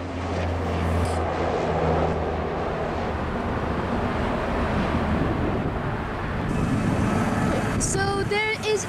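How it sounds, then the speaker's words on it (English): A Rex SAAB 340 turboprop bound for Wagga Wagga at Sydney Airport gives a steady, broad engine roar with wind buffeting on the microphone, ending in a sharper whine, heard from a spotting point. "This is a Rex SAAB 340 bound for Wagga Wagga."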